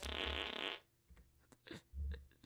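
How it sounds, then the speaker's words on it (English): Toy toilet fart machine giving two loud, buzzing fart blasts separated by a short quiet gap, close and clear. "aka the fart machine."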